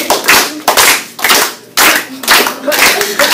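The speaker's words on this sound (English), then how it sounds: "clap, clap, clap, clap your hands" Children in a teacher's class clap their hands together in loud, rhythmic bursts, several quick claps per group with short pauses between, close and lively in a classroom.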